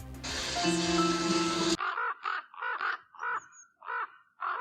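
A raven gives a series of about eight hoarse, croaking calls in an even rhythm, clear and fairly close, after a short burst of other noise.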